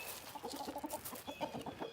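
Clucking from a flock of Americana mix hens and young roosters with black, copper-ringed tails, a dense run of short, close, overlapping clucks with no talk.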